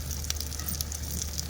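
Tomatoes and green chillies sizzle in a pan for a fish curry, giving a steady, soft frying hiss with faint crackles, heard close and alone.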